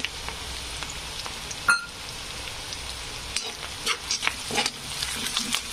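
Peanuts and onion roast and sizzle in a pan for kanda poha, a close steady crackle with scattered stirring scrapes and a brief clatter, no speech.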